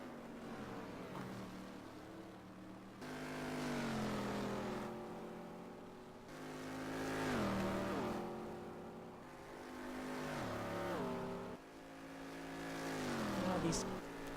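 GT3 race cars scream down the straight at Killarney in a close battle for position, engines rising and falling through repeated high-revving upshifts, loud and continuous, with a commentator talking over them.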